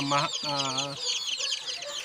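A Shamo Aseel gamefowl rooster clucks in a few short, close, harmonic bursts, over a light bed of background noise.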